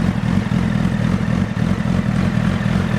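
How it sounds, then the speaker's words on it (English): A 1000cc inline-four superbike engine idles nearby with a loud, steady, deep throbbing rumble, an even pulsing that holds throughout without revving. "Man, I love this bike. Inline 4 engine."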